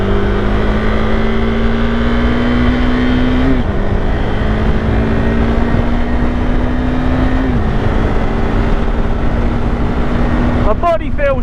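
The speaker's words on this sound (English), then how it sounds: "That is one buzzy motor." A KTM 390 Adventure motorcycle's single-cylinder engine drones loud and buzzy along a dual carriageway, steady high revs with two brief dips at gear changes, heavily mixed with wind buffeting.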